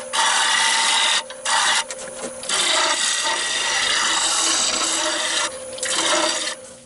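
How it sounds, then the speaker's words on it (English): Gouge shear scraping spalted hackberry spinning on a wood lathe, a loud continuous hissing scrape with two brief pauses where the tool lifts off the wood. "I'm going to drop the back of the handle and bring the cutting edge up and shear scrape this"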